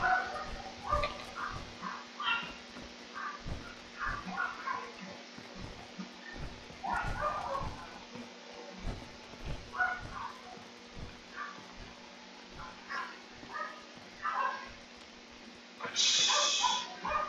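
A dog in the Fallout 4 video game barks intermittently, short yelps and barks scattered at moderate distance, with faint talk and game ambience underneath.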